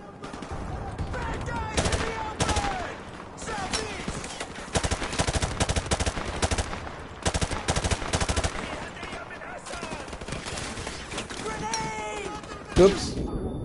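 Gunfire in the Call of Duty Modern Warfare Remastered video game on PS4: bursts of automatic fire and single shots come in irregular clusters, some close and loud, alongside scattered game sounds and voices.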